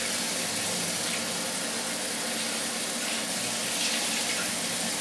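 Warm water runs from a kitchen tap as pieces of coconut are rinsed for making coconut milk; a steady, even hiss of flowing water, fairly close, without talk.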